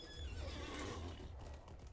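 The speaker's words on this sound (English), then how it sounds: "check out our newest horse" A horse neighs in the video game LOTRO (Lord of the Rings Online), loud and close, with dense game sound and hooves underneath across the whole stretch.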